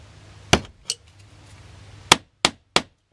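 An old nail-holding hammer driving a nail in a workshop: a series of sharp metallic strikes, one, another shortly after, then three quick ringing blows near the end, close and loud with no speech.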